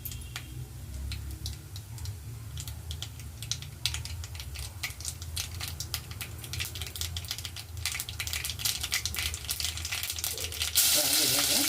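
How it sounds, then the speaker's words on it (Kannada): Mustard seeds and cumin sizzle in hot oil for tempering, a dense, steady crackle with rapid ticking pops that holds throughout and swells louder near the end, with no talking. "ಈಗ ಎಣ್ಣೆಗಾಯಿಗೆ ಒಗ್ಗರಣೆಗೆ ಇಟ್ಟಿದ್ದೀನಿ. ಸಾಸಿವೆ ಜೀರಿಗೆ ಹಾಕ್ಕೊತಾ ಇದ್ದೀನಿ ಮೊದಲಿಗೆ."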